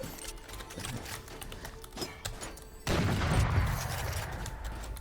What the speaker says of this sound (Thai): โอ้โหยิงทะลุนะเนี่ยสองรอบ